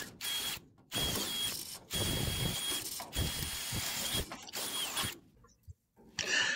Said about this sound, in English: Get those holes drilled out.